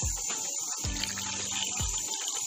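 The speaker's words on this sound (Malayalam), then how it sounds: "വെള്ളം ഒഴിച്ച് നമ്മൾ കുക്ക് ചെയ്യാനാണ് പോകുന്നത്" Water is poured into a cooking pot holding fish for a Kerala meen peera dish, a steady close splashing gush that runs through the short moment with a few thuds from the pot.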